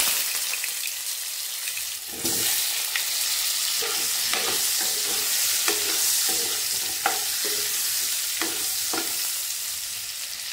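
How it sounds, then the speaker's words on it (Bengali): Potato pieces with turmeric and a little salt sizzle steadily in a hot kadai while a spatula stirs them, scraping and clattering at irregular intervals over the constant frying hiss. "তো আলুগুলোকে আমি ভেজে নেব"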